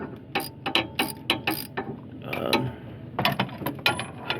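A ratchet on a swivel and two extensions clicks close by, unscrewing the oil pressure switch on a 1999 Ford F150: short bursts of sharp pawl clicks in repeated strokes, with brief pauses between them and no talk.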